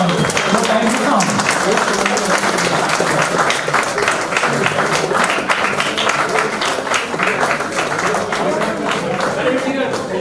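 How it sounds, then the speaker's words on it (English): An audience at a school alumni meet claps in a loud, continuous round of applause, dense and steady throughout, with some crowd voices mixed faintly underneath. "can we have a huge round of applause, please?"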